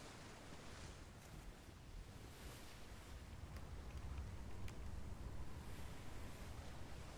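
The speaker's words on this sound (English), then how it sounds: "Had a weird splashing sound." Watery splashing and surf-like wash in a video game, a steady broadband rush that swells slightly midway, with faint wind noise and no talk.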